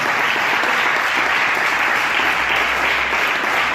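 Loud, sustained applause from a large church congregation during a sermon, a dense unbroken wash of clapping with no voices standing out.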